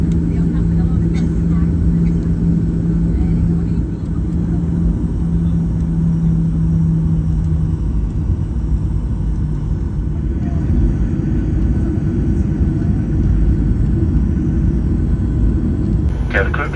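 A Greater Bay Airlines airliner cabin during takeoff fills with loud, steady, unbroken engine and airframe rumble, while a voice makes an announcement over it.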